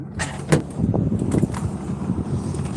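Road traffic heard through an open vehicle door, a low rumbling wash of passing cars with a couple of brief louder swooshes near the start and continuous wind-like noise throughout.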